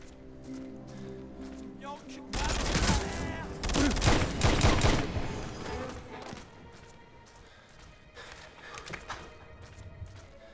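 Gunfire from the video game Wanted: Weapons of Fate erupts in a loud, dense burst of rapid shots lasting a few seconds, then fades to quieter in-game sounds, with someone talking over it.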